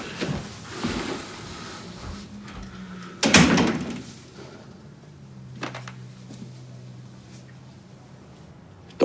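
A door opens in an indoor drama scene with a sharp clunk and rattle partway through, followed by quieter knocks and a faint thud, against a low room tone.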